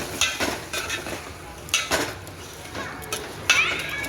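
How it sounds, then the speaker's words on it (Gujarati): A spoon scrapes and clatters against a metal pot as potatoes are stirred in with cooked tomatoes, several separate strokes, near and fairly loud, with a soft sizzle between them. "હવે આ બટેકા એમાં નાખી દેવાનું, પછી પાછું હલાવી નાખવાનું,"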